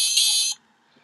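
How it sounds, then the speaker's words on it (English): A circuit-bent electronic toy emits a loud, steady buzzing alarm tone for about half a second, then cuts off abruptly into near silence. "So this alarm sound,"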